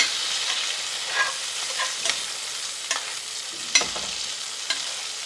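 Steak searing in a pan with browning garlic butter, a steady close sizzle and frying hiss running throughout, broken by occasional soft pops and stirring clicks, with no voices.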